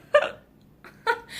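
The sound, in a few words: hiccup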